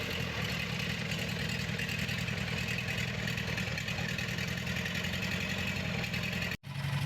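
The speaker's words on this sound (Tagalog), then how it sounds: "Umandar din po yung 3 wheels." An old three-wheeler vehicle's engine runs steadily at a rough idle with a constant low rumble, close and loud throughout, with a brief dropout near the end and no speech.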